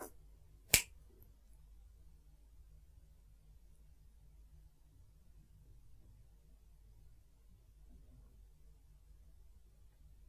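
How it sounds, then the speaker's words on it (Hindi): A single sharp, close finger snap near the start, followed by a long stretch of near silence with a faint low hum. "ये जो चुटकी बजाऊंगा इसकी आवाज को सुनना"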